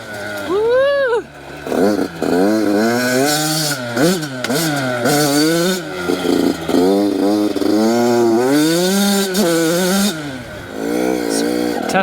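A brand new Yamaha YZ85 dirt bike engine, running rich with plug fouling, revs loudly and close in repeated rising and falling bursts, bogging at times before climbing again.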